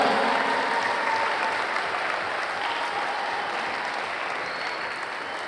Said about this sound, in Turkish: Bir güzel alkışlar kesmeye xahiş edirəm.